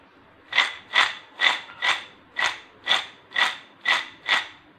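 Nine crisp, evenly spaced crunches of fried namak pare, a flaky salted flour snack, snapped or bitten close up with no talk.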